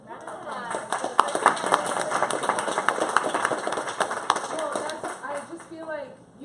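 An audience at a Star Wars fan event breaks into a dense, steady round of applause, with scattered cheers rising over the clapping before it fades near the end.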